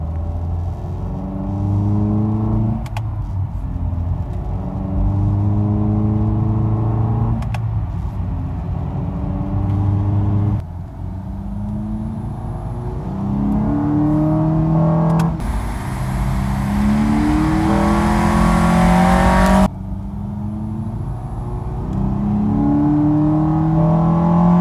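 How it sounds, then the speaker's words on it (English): A car fitted with a Takeda Stage 2 short ram intake revving through repeated pulls from second gear, a deep engine note climbing and dropping between gear changes, loud and close throughout with no voices. "Here's another pull from second gear. It's a really deep noise, especially from low RPM"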